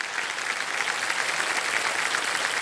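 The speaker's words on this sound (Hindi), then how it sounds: "तालियां बज जाए इनके लिए।" Studio audience applauding on the KBC TV quiz show, a dense, steady burst of clapping throughout, fairly close and even in loudness.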